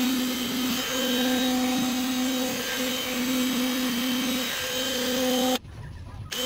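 A cordless impact wrench fitted with a new battery runs continuously as a loud, close, steady mechanical whir with a constant hum, then cuts out abruptly near the end.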